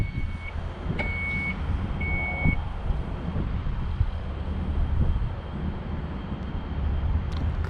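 A side-entry wheelchair ramp on a 2019 Dodge Grand Caravan closes while a high warning beep sounds in short bursts. A steady motor and outdoor rumble carry on underneath, and nobody talks.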